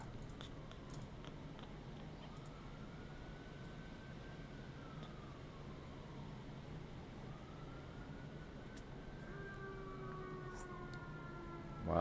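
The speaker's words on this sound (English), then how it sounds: "Wow, that's a wimpy siren." A faint siren wails slowly up and down in the distance over steady background rumble, with a second rising tone near the end.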